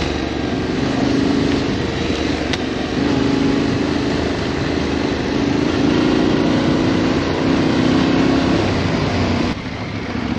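A Yamaha T7 motorcycle's engine drones steadily at close range while riding, a loud continuous hum with wind rush that holds for about ten seconds and then drops slightly near the end.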